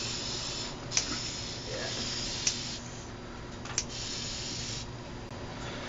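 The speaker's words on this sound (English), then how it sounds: "So Becca's using spray paint" A steady hiss of spray paint runs throughout, with a few brief sharp clicks at intervals; faint voices may sit underneath.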